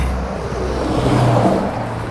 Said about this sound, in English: these trucks and stuff be driving so close to the curb. It's tractor trailers.